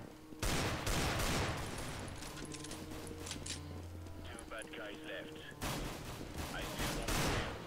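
Rapid bursts of gunfire from the video game CS:GO crackle over one another, with people talking through the shooting.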